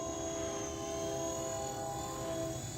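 WLToys V911 four-channel mini RC helicopter flying outdoors, a steady high-pitched electric motor whine with a constant rotor buzz, continuous and fairly faint, no talking.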